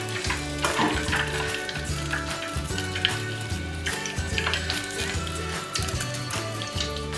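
Butter browning in a pan on the stove, a steady soft sizzle and crackle running continuously beneath background music.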